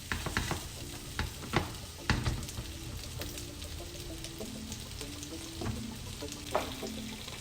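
Shrimp sizzling in a frying pan after being turned over with a spoon or spatula, a steady crackling fry broken by occasional utensil scrapes and taps, moderately quiet with no speech.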